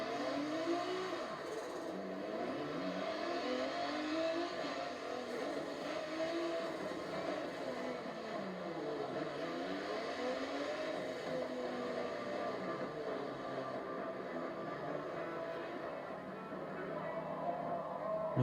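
Honda Trophy race car number 15 in Forza Motorsport 7, its engine droning and rising and falling in pitch through gear changes, steady and continuous.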